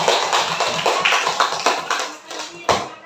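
A classroom of students claps together in a brisk, fairly close burst of applause that softens briefly before a final louder clap.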